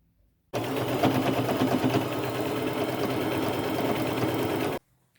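Sewing machine double-stitching denim patchwork panels onto the back of a distressed jean skirt, a steady continuous motor whir running close and loud for about four seconds alone, with no talk.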